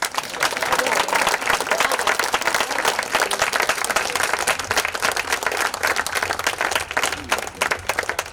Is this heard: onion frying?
no